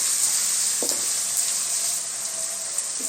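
Chicken pieces for chicken 65 pasta fry until crispy in hot oil, giving a continuous, close, even sizzle with a few faint clinks.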